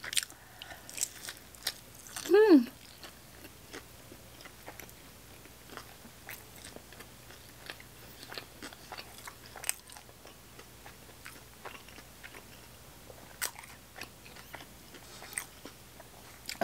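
Crunchy corn puffs being bitten and chewed close up, a series of soft crisp crunches spread irregularly over the stretch, with a brief higher vocal sound early on and no talk.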